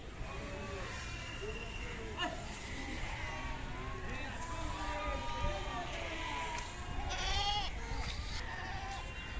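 Goats bleating at the Deonar livestock market in Mumbai, several wavering cries overlapping near and far amid busy crowd murmur and someone talking.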